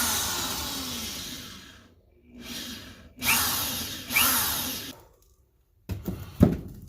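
A power drill bores out a broken cylinder head bolt on a 1994 Camaro engine, running in several bursts of whining, grinding noise separated by pauses, loud and close.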